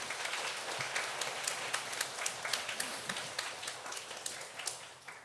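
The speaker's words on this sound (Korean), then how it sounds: "우리 주님께 박수 한번 드리고 먼저 시작합니다." A church congregation at a revival meeting claps together, a fairly distant, moderately quiet roomful of applause with distinct individual claps popping out over a steady wash, sustained evenly and fading slightly toward the end, with no voices.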